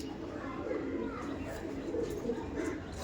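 Andhra Kalshira pigeons coo softly amid a noisy loft, with people talking nearby over the steady background hum.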